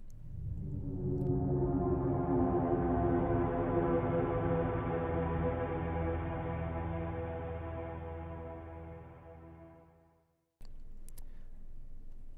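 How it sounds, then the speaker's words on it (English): A sustained, drone-like alarm from a hybrid trailer sound library swells up, holds as a dense tonal hum, then fades and cuts off near the end before a low rumble returns. "I have a what they call an alarm from Keep Forest Evolution. To me, it sounds more like a kind of a drone"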